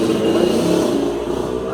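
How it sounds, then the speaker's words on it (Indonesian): A motorbike passes on a nearby street, its engine a loud, steady drone that fills the whole moment without a clear rise or fall. "Ada motor lewat lagi, harap dimaklumin."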